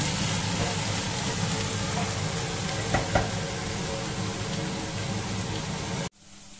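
Sliced onions fry in hot oil until browned for a Bangladeshi-style pangash fish curry, a dense, even sizzle with a couple of brief stirring clicks before the sound cuts off abruptly near the end.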